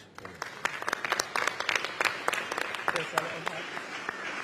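An audience claps after a Labour speech about transport in the North. The applause is sparse and uneven, with distinct individual claps that swell briefly and then thin out, and a murmur of voices runs underneath.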